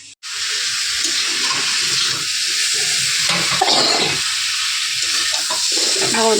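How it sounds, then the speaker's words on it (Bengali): Hot water poured into simmering spices in a cooking pot, a steady loud hiss and sizzle running unbroken almost from the start, with no talk. "গরম জলটা দেবো কিন্তু ঠান্ডা জল না"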